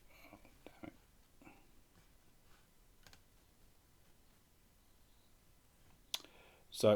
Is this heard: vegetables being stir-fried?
no